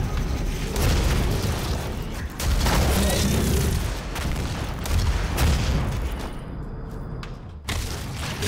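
Gunshots and blasts in Doom 2016 on Nightmare difficulty, in the Lazarus Labs level and a rocket arena. Heavy booming shots fire one after another, loud and dense, with a short quieter gap near the end.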